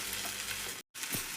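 Radish pods sizzle loudly as they are stirred in a hot pan, a steady close frying hiss with a brief silent cut partway through.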